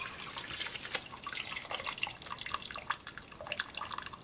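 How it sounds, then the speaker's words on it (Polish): Water from a glass is poured over boiled cheese and potato pierogi, a quiet, irregular trickle and dripping of water. "To jeszcze biorę szklankę wody i polewam."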